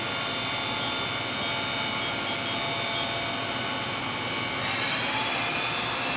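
Matsuura MC-600V vertical machining center spindle running at 6,000 RPM, a steady loud high-pitched whine with dense tonal hum, continuous and unchanging throughout, no voices.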